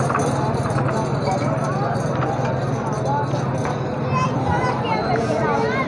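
Horse hooves clip-clop among the crowd at an outdoor livestock market selling horses and foals, irregular steps under steady babble and nearby talk.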